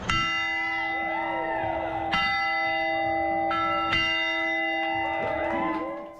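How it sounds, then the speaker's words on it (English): Padres' big bell at a San Diego baseball stadium, rung by a cancer patient celebrating remission; three loud ringing strikes spaced about two seconds apart, each leaving a long shimmering metallic decay over steady crowd ambience. "He rang the Padres' big bell"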